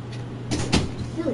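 A dog pushes open a door in The Sinking City video game, giving a short pair of wooden knocks and creaks at close range over a low steady hum, with no talk.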